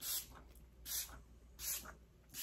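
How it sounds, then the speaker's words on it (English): Setting spray mists onto a face in short strokes, four brief airy hisses spaced evenly about every 0.7 seconds, close and soft. "It is a great setting spray."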